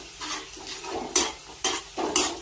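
Chopped onion frying in hot oil with cumin for a restaurant-style dal tadka, stirred in a pan; close, steady sizzle broken by several loud scraping strokes of the spoon at an uneven rhythm.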